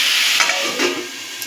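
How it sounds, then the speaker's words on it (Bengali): A brief burst of hissing sizzle from meat frying in a covered pan over medium heat, muffled under the lid, with a couple of soft clatters; loud and close. "ঢাকা দিয়ে মিডিয়াম আঁচে রেখে ভেজে নেব।"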